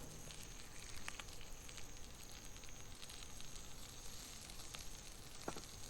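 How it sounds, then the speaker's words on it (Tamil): Crushed spices sizzling in hot oil in a pan for a tuna fish curry, a steady loud crackling hiss with a few sharper pops, no voices. "அதை போட்டவுடனே நல்லா பொறிஞ்சி வாசனை வரும்"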